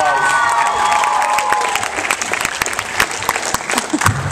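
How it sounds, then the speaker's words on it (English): Loud, steady applause from a comedy club audience cheering stand-up comedian Max Blake, dense clapping with some whoops and shouts throughout. "give a big round of applause"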